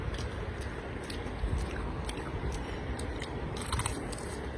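Close, crisp bites and crunching chews of crispy fried momo, a run of sharp crackly crunches repeating irregularly over a few seconds, loud and near with no talk.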